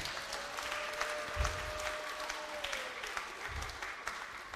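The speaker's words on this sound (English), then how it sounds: "Can you please give them a round of applause?" Audience applause at a national reading competition prize giving ceremony, a soft, continuous wash of clapping heard from a distance, with occasional low thumps.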